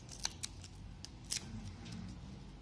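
A test reagent packet for a water hardness meter is snipped open with scissors, giving a few quiet, sharp cutting clicks in a near-silent room.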